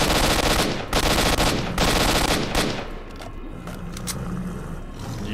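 Rapid automatic gunfire in S.T.A.L.K.E.R.: Shadow of Chernobyl, loud close bursts for the first few seconds, then thinning into scattered shots and clatter.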